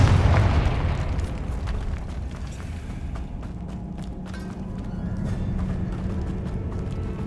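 A Confringo explosive spell goes off in Hogwarts Legacy, a loud booming burst at the start that decays into a rumbling, crackling tail with scattered impacts and footsteps continuing underneath.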